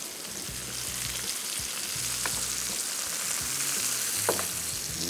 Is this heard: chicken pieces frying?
yes